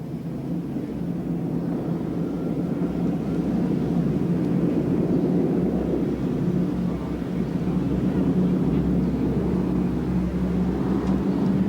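A formation of five North American Harvard trainers flies past, giving a steady, rumbling radial-engine drone that swells slightly in the middle and stays continuous and fairly loud throughout, with no voices.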